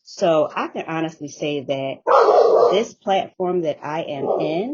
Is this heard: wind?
no